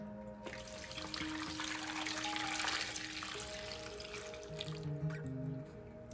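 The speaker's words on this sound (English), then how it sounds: "So now I add my hot water." Hot water pouring into a soup pot of waterleaf and kale vegetable soup, a steady close splashing stream that runs for several seconds before trickling off.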